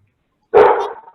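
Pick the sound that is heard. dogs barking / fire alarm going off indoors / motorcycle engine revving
dogs barking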